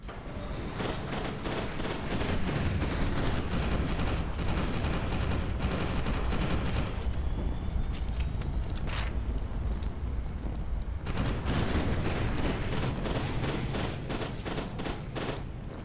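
Rapid bursts of gunfire crackle steadily in the video game F.E.A.R. 2: Project Origin, pausing briefly midway before the shooting resumes, loud and continuous like an action game battle.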